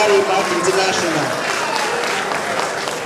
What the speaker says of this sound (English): Please, a round of applause for Larry Mark International.